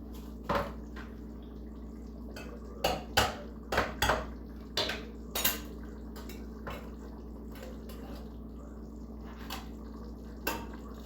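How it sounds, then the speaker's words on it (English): A full can of beans drops into a pot of one-pot chili, with several sharp metallic clanks and knocks of can against pot in a quick cluster, then a few scattered clinks and faint drips, close by and without talk. "Just dropped the whole can of beans in there, literally."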